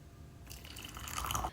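Hot snow pear and rock candy water boiled in a health pot pours into a cup, starting abruptly halfway through as a bright, splashing trickle that builds briefly, then stops.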